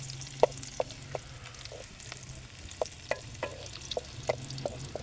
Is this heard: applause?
no